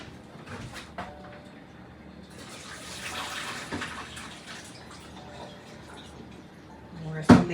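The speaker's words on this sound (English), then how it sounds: "just go ahead and drain your broccoli from the water, because that water is so hot" Hot water pours off cooked broccoli into a kitchen sink, a steady splashing rush that swells in the middle and ends with a sharp clunk, with a voice talking over parts of it.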